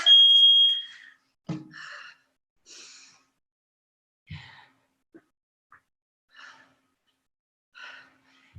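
A short electronic beep sounds at the start, followed by scattered quiet breaths and small noises separated by silence.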